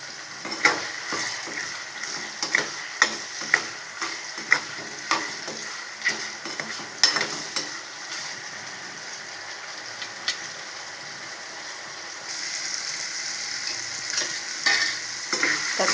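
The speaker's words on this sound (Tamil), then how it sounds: "தக்காளி வதங்கிட்டு உப்பு சேர்த்துக்கிறேன்." Tomatoes sauté in a pan for a Tamil taro tamarind curry, sizzling continuously while a spoon scrapes and stirs in sharp, regular knocks. The sound is close, with a brighter hiss of frying near the end.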